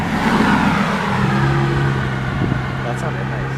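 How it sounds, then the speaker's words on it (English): A car or truck drives past on a road at night, its engine a steady mid-pitched hum and rumble that stays loud throughout, with voices mixed in. "Guys, it's a truck. That actually sounds like a truck."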